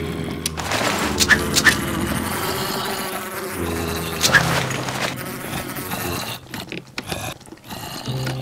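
A bee buzzing in a video game, a steady droning hum that runs the whole time over busy game sounds, with a few sharper effects and a brief break near the end.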